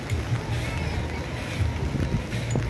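Fishing trawlers heading out to sea after hilsa near Digha, heard as a steady low engine rumble with wind and water wash all around, a continuous noisy drone at a constant level.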